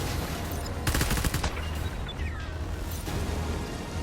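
Gunfire in the video game Death Stranding, a rapid burst of shots followed by scattered single reports over a continuous game soundscape, loud and close.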